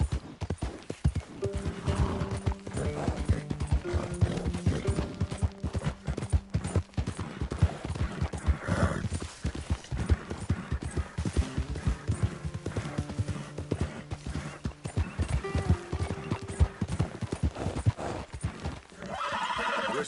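Horse hooves clip-clop steadily in a video game, joined by neighs and whinnies over a constant bed of game music and ambience, someone briefly talking.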